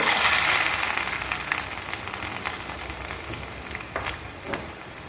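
Mustard seeds crackling and popping in hot oil for curd rice tempering, a dense sizzle with scattered sharp pops that starts loud and eases slightly, close by with no talking.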